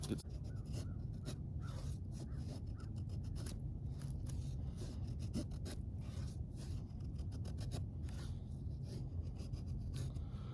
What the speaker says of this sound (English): let's do some feather sticks with this.